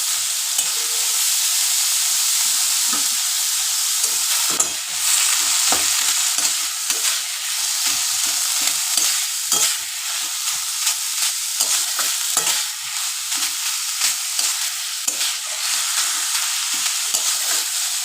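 Banana stem stirred and fried in a pan: a loud, constant hissing sizzle with many quick spoon scrapes and taps scattered through it.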